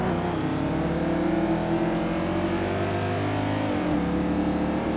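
A fast car's engine drones steadily at close range, holding a sustained revving tone that shifts slightly in pitch toward the end, with no voices over it.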